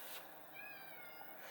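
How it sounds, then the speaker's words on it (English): A cat meows once, a faint, thin, drawn-out cry heard close in a quiet room. "That sounds like a cat"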